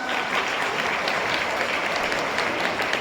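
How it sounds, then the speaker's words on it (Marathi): Students in a classroom clap together in sustained, dense applause that stays steady and fairly loud throughout, with no voices rising above it. "एकदा तुमच्यासाठी टाळ्या होऊन जाऊ दे सगळ्यांना"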